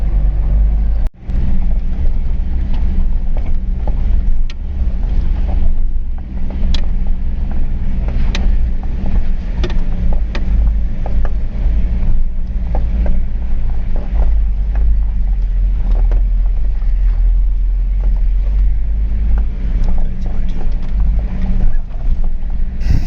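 A vehicle jolts along a rough, dusty mountain road. A loud, steady engine and road rumble fill the whole stretch, broken by occasional sharp knocks and rattles.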